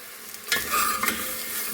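Spiced mutton rib bone soup base with shallots, curry leaves and masala gets stirred in a pot, giving a brief close scrape over a soft sizzle.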